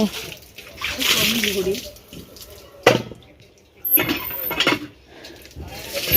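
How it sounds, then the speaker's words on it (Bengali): Water splashes and sloshes as bottles are filled outdoors, with a few clinks of the containers in intermittent bursts, while people talk nearby. "আমার হাতে এই যে দুটো বোতল দিদি ওইদিকে জল ভরছে"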